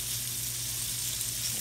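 Flounder fillet sizzling steadily in a hot sauté pan, a dense continuous hiss of frying fish with faint stirring underneath; close and constant, no talk.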